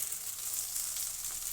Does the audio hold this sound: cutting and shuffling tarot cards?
no